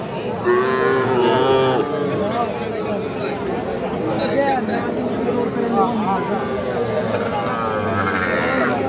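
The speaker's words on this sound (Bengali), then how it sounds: "হাঁসা গরু।" Cattle moo repeatedly at a busy Bangladeshi livestock market selling young bulls and heifer calves, with long, loud lowing calls rising over constant crowd chatter and nearby talking voices.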